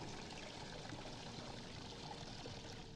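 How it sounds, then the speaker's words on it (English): In the video game Art of Murder, water drains from a duct as a steady, continuous rushing pour, even and unbroken throughout, with no voices. "The water's drained from the duct."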